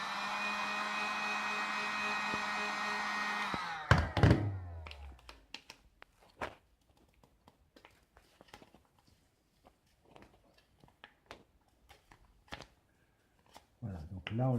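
A hair-dryer-like heater blows a steady whirring hum for a few seconds while suedine fabric is heated and stretched to remove wrinkles, then cuts off into scattered taps, handling sounds and speech.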